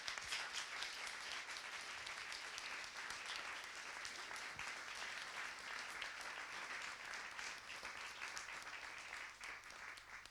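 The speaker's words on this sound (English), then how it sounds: "big claps for the guests" An audience at a science café event on women in science gives the guests a sustained round of applause, dense clapping held steadily for about ten seconds, fairly distant and soft.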